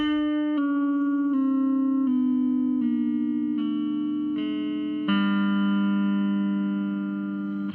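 An electric guitar run through a NuX Kompressor compressor pedal plays a single note at a time, stepping down by half steps in about seven even plucks, each note sustained and loud at the front with no talking.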